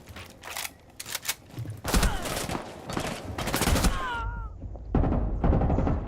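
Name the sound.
gunfire from a video game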